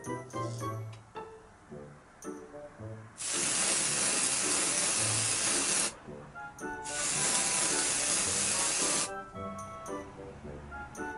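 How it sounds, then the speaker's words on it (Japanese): Scalp D Black Cover hair spray is sprayed onto the scalp in two long, steady hissing bursts of about three and two seconds, loud and close, with someone speaking briefly before, between and after. "使用部位から10センチ程度離し、円を描くように少しずつスプレーしてください"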